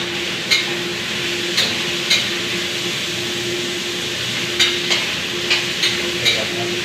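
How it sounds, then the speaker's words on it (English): Garlic and sugar stir-frying in a hot pan: a steady, close sizzle with a low constant hum, broken by several sharp scrapes and taps of a utensil against the pan at irregular intervals. "Garlic. garlic. Sugar. Stir fry."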